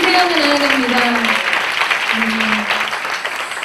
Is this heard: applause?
yes